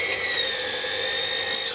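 Machine cutting on a homemade rotary table in a workshop, a loud continuous high-pitched whine with steady tonal ringing, unbroken throughout and with no talk.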